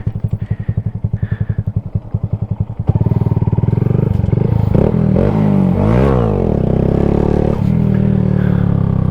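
A motorcycle's engine pulses rapidly at first, then accelerates hard in second gear into a loud, sustained roar with rising pitch and rattling clatter, close and alone.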